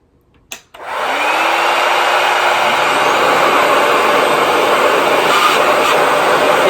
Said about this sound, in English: it's supposed to dry your hair in reverse as opposed to a regular blow dryer.